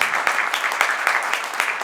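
Audience applause at a book presentation, brisk even clapping from a modest crowd sustained throughout.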